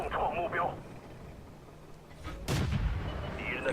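A tank cannon fires in the World of Tanks game, one sharp, booming shot partway through, with a commentator talking over the game sounds before and after it.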